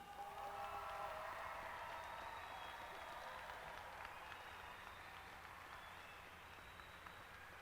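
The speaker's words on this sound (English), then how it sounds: "give them a round of applause," Faint, distant applause from high school seniors at a commencement ceremony for their teachers, a steady wash of clapping in a large reverberant space with some crowd murmur.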